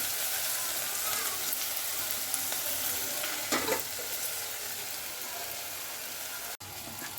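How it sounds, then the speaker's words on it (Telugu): Okra (bendakaya) frying in a pan, a steady bright sizzle throughout with brief stirring scrapes in the middle and a short clack near the end, with no one talking. "బెండకాయలు అయితే మంచి గోలినాయి"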